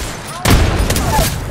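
A frag grenade going off in the Apex Legends shooter game, a single loud, close blast that rings out with a rumbling tail and crackling debris.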